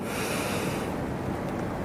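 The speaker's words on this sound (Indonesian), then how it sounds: "Tarik nafas dalam-dalam 3 kali." A long, deep breath drawn in close to the mic, a steady airy rush that fades toward the end, with no talking.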